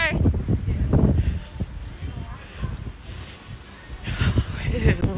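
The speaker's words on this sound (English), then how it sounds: "It is windy out here," Wind gusts outdoors during a shopping trip, a steady low rumbling rush that swells and fades, close on the microphone, with voices speaking over it.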